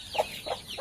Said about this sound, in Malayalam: ഇത് പിന്നെ നമ്മുടെ കോഴിക്കുട്ടികൾ അവരെ ഇതിലിട്ടിട്ടുണ്ട്.